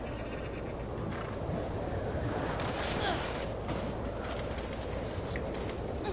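Stormy wind in the video game The Last of Us Part II, a loud, steady roar of gusts and buffeting that runs throughout with surging swells, alone without talk.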